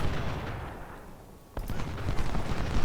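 Musket volleys and artillery fire from Ultimate General: Civil War at the Battle of Gettysburg. A distant rumble of gunfire fades, then a sharp loud crack breaks out into a dense crackling fusillade.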